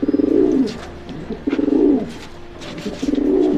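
Racing pigeons, a light-coloured breeding pair, coo in repeated low rolling phrases close by, with a few faint chirps between the bursts.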